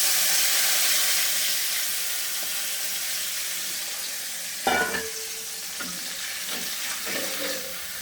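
Water poured onto browned onions frying in a pan sets off a loud, hissing sizzle that slowly fades, followed by a sudden clatter of a utensil and quieter stirring and scraping.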